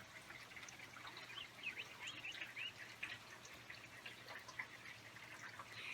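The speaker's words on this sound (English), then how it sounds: "In the distance, I can hear birds chirping." Faint birds chirping in the distance, repeated small tweets over a soft steady background of water trickling down drain pipes.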